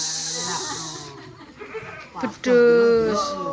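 A goat gives one loud, close, wavering bleat near the end, after a stretch of people talking nearby.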